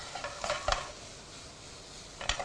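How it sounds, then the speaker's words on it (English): Spices with turmeric dry frying in a hot pan, heard as a faint sizzle with a few scraping stir strokes and light clinks of a utensil against the pan. "we can almost start to dry fry this"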